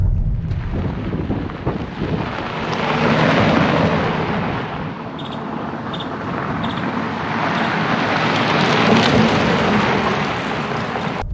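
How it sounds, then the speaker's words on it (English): Continuous heavy rushing and splashing noise, loud and broadband, as a 2023 VW Taos 4Motion drives through a stream, with a steady engine rumble underneath. "A little bit of a water splash here."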